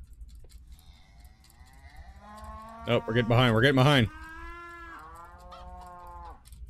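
Cows in a modded Minecraft game moo in several long, drawn-out calls, one much louder burst in the middle, while someone talks faintly over them.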